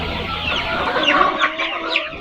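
Tiger chickens, hens and roosters, cluck and call on a poultry farm. The busy, overlapping clucking sounds close and fairly loud, with no talk.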